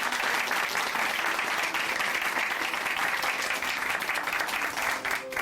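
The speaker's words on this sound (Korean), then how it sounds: "다시 한번 박수 보내드릴게요" A church congregation gives a dense, sustained round of applause after a testimony, steady and full for several seconds before easing slightly at the end, with no talking over it.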